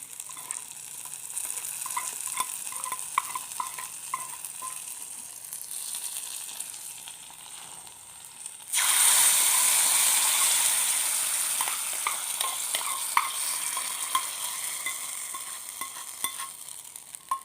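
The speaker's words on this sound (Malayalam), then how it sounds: "അപ്പോൾ ഈ താളിച്ച കൂട്ട് കറിയിലേക്ക് ഒഴിച്ചു കൊടുക്കുക" Hot tempering of dried red chillies sizzles loudly as it is poured into a tamarind okra curry, a sudden burst of hissing after quieter stirring and clinks, then settling into steady frying crackle.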